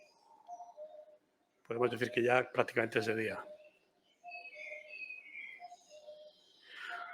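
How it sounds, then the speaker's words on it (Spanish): A blackbird sings at dawn in a forest of a Spanish natural park, with faint, fluting phrases repeating in the background, briefly masked by someone speaking over them. "Y ya cuando empieza a cantar el mirlo"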